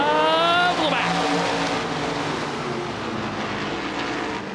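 IMCA race cars roaring around the Cocopah Speedway oval during the Winter Nationals, a loud steady engine drone as a car passes with falling pitch, then a sustained blend of several engines under faint background noise.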